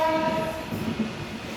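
A passenger train running non-stop from Dwarka to Okha along Gujarat's coast sounds a sustained horn over a steady rolling rumble, the horn fading as the rail noise continues, with no speech.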